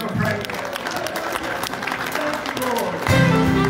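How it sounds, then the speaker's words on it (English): Church congregation clapping in praise during a Sunday morning service, a steady wash of hand claps that swells louder near the end, with voices mixed in. "Can you give him another hand clap of praise?"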